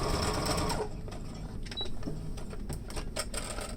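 A sewing machine runs steadily, stitching diagonally across fabric for a face mask, its fast mechanical whir close and continuous before easing into lighter, intermittent stitching.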